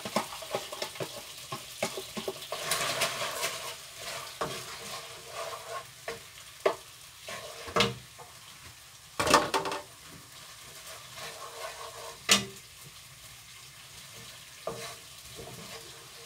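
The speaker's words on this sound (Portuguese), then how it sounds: "Agora põe-se a cebola e o alho até lourar." Onion and garlic frying in a pan until golden for bacon and egg farofa, a steady close sizzle with scattered stirring scrapes and a few sharper clacks, no talking.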